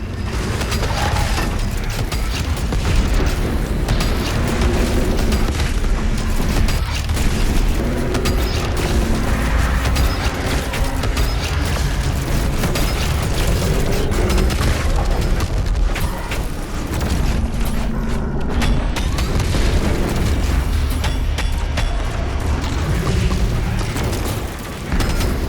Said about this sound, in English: a burst of rockets that lock onto enemy targets